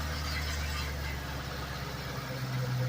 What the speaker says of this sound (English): you can hear like a little bit of a rattling sound